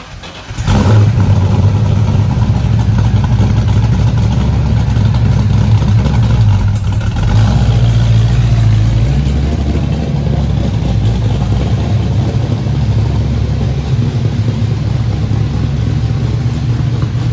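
A 1969 Ford Mustang Mach 1 V8 runs steadily close by, its loud low rumble revving up sharply near the start and again around the middle before settling back to a throbbing idle.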